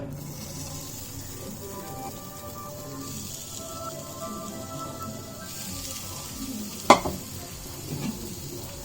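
Marinated chicken sizzles in a hot pan with no added oil, a steady close crackle like light rain running throughout, with one sharp clatter of the pan or utensil near the end.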